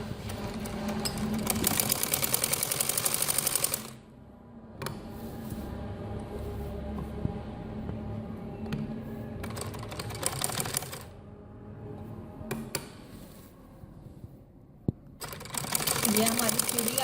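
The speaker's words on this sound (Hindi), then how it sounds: "चिड़ी बनाने के लिए मैं इसको खोलकर इस तरह करके अब यहाँ पे इसकी सिलाई लगा लेंगे" A sewing machine stitches fabric for a gharara in rapid, rattling bursts, running for several seconds at a time between pauses, with a person talking quietly in the gaps.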